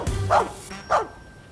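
A dog in a dramatized audio story barks twice in quick succession, two short, fairly loud woofs standing alone without talk.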